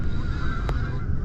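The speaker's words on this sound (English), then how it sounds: "Them geese, boy, they're obnoxious." Geese honk repeatedly beside the water during a fishing trip, a nearby flock giving continuous harsh calls with one sharp burst standing out.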